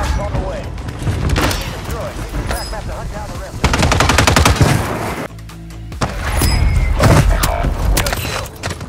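Gunfire in the Warzone video game: rapid automatic bursts and loud shots dominate, broken by a brief quieter pause, while players talk over the action.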